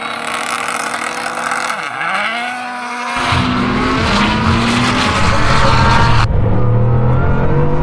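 A Mini launching off the line in a drag race against a Bugatti Chiron Super Sport and a Lamborghini, its engine dipping then surging with tyre squeal and skidding, revving hard and loud as it accelerates away.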